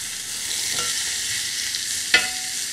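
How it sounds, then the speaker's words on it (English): Lamb sizzling in a hot skillet after being flipped and pressed flat, a steady close frying hiss with a brief sharp crackle near the end. "Just flip it over, press it down flat onto the skillet."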